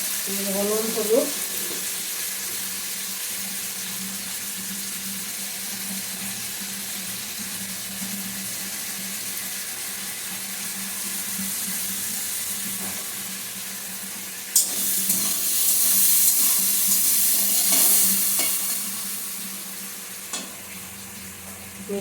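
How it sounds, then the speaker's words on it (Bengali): Potatoes frying with turmeric in a pan on medium heat, a continuous moderate sizzle throughout, briefly louder and brighter midway as stirring or a splash of water hits the hot pan. "আলুটা ভাজার জন্য দিয়ে দিচ্ছি।"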